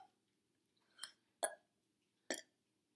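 A boy lets out three short, throaty burps spaced irregularly over a few seconds, close to the microphone and fairly quiet, with near silence between them.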